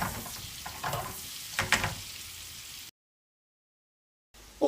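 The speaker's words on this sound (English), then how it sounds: "get our onions in there and get them fried off in that butter" Chopped onions fry in melted butter in a pan, crackling and sizzling steadily with a few stirring scrapes, then cutting to silence before a brief return of the sizzle.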